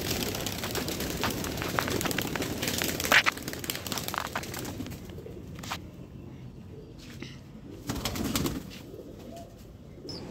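Pigeons released from their coop coo and call repeatedly nearby, with soft flutters and occasional bumps, the activity busier at first then thinning out.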